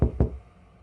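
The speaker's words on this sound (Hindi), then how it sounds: "अमय दरवाजा पीट रहा है।" Two heavy thuds of someone banging on a closed door from outside, close and loud, a quick double knock followed by a fading boomy room tail.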